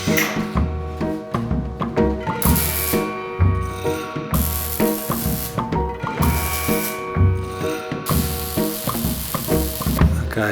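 Steel strut for a spiral staircase being welded, with bursts of crackling arc sizzle starting and stopping over a steady background hum, loud and close, no voices.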